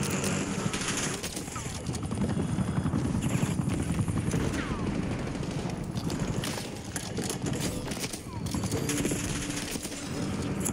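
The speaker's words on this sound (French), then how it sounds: "Envoyez un hélico de surveillance en survol." Helicopter flying overhead in a video game, a steady loud rotor and engine drone running through the whole stretch, mixed with gunfire and other battle sounds.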